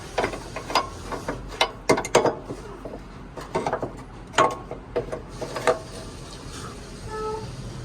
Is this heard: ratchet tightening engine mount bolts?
yes